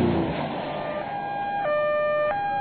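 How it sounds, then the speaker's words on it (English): An ambulance siren alternating between two pitches in a hi-lo pattern, steady and fairly clear over a soft background hiss, with no voices. "I'm an ambulance."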